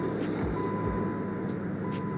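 A V8 car engine turns over and catches, settling into a steady, loud low rumble at close range with no voices over it.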